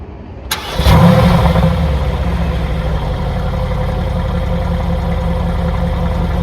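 A 2015 Mercedes-AMG GT S Edition 1 with its 4.0-litre V8 cranks briefly and fires, surging into a loud, close bark before settling into a steady, deep idle rumble with no talking.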